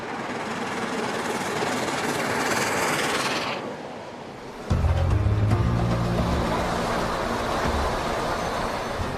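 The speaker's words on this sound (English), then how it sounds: "Before long, the loco is settling into its stride again on a part of the East Coast line known as the Racing Stretch." The Tornado steam locomotive runs at speed on the East Coast main line, a steady rushing roar of wheels and motion that drops away briefly before a louder, closer rumble with rhythmic beat resumes.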